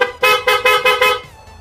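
A loud, close PIA horn on a Honda Click scooter sounds five times in a quick, even rhythm, each toot short and bright, then fades out.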